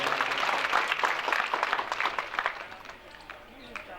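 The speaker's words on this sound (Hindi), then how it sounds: "रोहित जी गुरु जी के लिए तो एक बार बहुत जोरदार ताली बजाइएगा।" A crowd claps at a Shiv Mahapuran katha religious gathering, a continuous dense patter of many hands for a few seconds that gradually thins toward the end.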